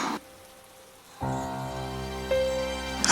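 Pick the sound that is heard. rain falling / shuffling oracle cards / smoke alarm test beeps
rain falling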